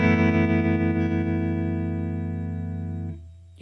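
Sustained electric guitar chord through a tremolo effect on a Fender Tone Master Pro amp modeller, ringing steadily for about three seconds before it cuts off abruptly into a short, quiet tail. No voices.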